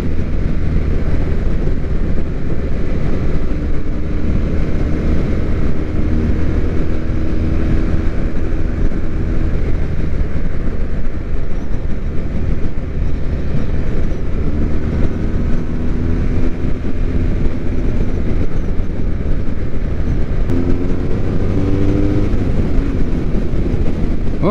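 A BMW R1250R motorcycle on a test ride gives a steady, loud engine drone with constant road and wind rush, the pitch rising through the gears in a few bursts of acceleration, without any talk.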